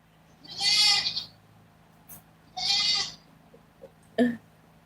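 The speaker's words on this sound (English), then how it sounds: "they're bellowing like goats" Goats bleat loudly and close by outdoors at a mountain home, two long wavering cries separated by pauses, followed by a few shorter bleats.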